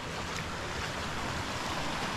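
A snowmelt-swollen stream in Finland rushes steadily in a continuous, loud broadband wash of flowing water, with no voices.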